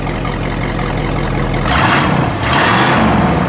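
Engine of a 1969 Oldsmobile Hurst/Olds revving through its original mufflers: a low idle rumble that swells into two loud throttle blips, close by.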